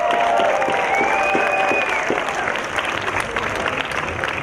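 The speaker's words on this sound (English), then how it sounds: "Give yourselves a round of applause." Audience applause at an outdoor Day of the Dead celebration, a sustained crowd clapping with cheers and murmured voices, loud at first and easing slightly toward the end.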